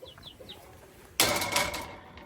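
An aseel rooster gives a few short chirpy calls, then a sudden loud burst of flapping and rustling close by that fades out over a second or so.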